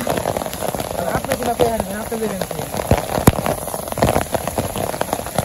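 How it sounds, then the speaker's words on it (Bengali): Steady rain pattering on a hard surface, with scattered sharper drips and faint voices underneath. "এই যে কি বৃষ্টি নেমে পড়ছে"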